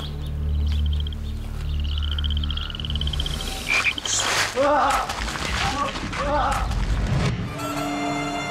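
Frogs croak after dark on a farm, repeated pulsing calls with bright tonal chirps, under steady talking and background sound.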